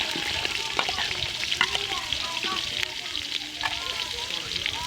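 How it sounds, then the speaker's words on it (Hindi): Onions go into hot ghee for an aloo matar pulao, giving a steady, moderate sizzle with occasional scraping stirs and faint clinks in a home kitchen; no speech is heard. "घी गर्म हो गया, इसमें प्याज डाल देंगे।"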